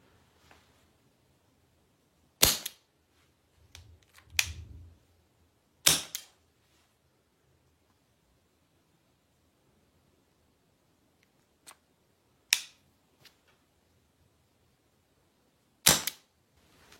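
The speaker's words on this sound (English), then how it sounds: "dual action means the handle of the trigger comes back on its own and fires" Dual-action green gas airsoft pistol firing single shots, five sharp cracks spaced irregularly over several seconds with small clicks and handling noises between, fairly close and alone.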